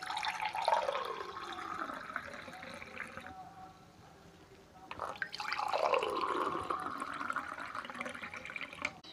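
Cashew fruit juice is poured into a glass in a kitchen, a liquid stream with dripping and filling sounds, pausing briefly midway and then resuming at a moderate level.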